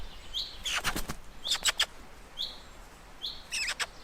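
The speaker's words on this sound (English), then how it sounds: "magpie foster bird, who fell out of the nest after his mother was eaten by a cat" A young hand-raised magpie flutters its wings in bursts close by, with high thin chirps between the flaps, set in a quiet outdoor space.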